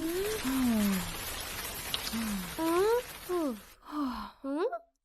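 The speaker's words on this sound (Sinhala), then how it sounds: "නියමයි අන්න වහින්න යන්න" Cartoon rain begins to fall as a steady, close hiss for about four seconds, with characters' wavering whines and sighing vocal sounds rising over it before it cuts out.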